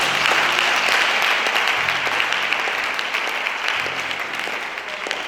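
Congregation applauding in a church, dense sustained clapping from a crowd that holds steady then slowly eases off, loud and close with no clear voices over it.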